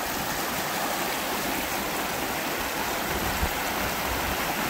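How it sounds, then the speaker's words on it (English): A burn flowing toward Pullman rushes loud and steady after a week of heavy rain, a dense, unbroken roar of fast water close by with no speech. "Just passing the manual burn today that flows into Pullman, and as you can see, it's quite raging today."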